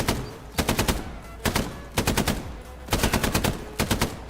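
A deployed machine gun in Hell Let Loose, braced against a fence, fires several loud rapid bursts with short pauses between them, close up and with no talking.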